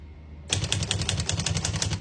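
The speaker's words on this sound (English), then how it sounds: "As you can see, all the keys type nice and none of them skip or stick." Keys clack rapidly on a 1950 Olivetti Lettera 22 portable typewriter, a quick, even run of crisp strikes starting after a brief quiet moment, close and alone.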